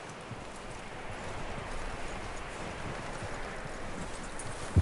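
Horse hooves clop in Red Dead Redemption 2, a soft steady rhythm of hoofbeats at moderate distance under faint ambient rustle, ending with a brief sharper knock.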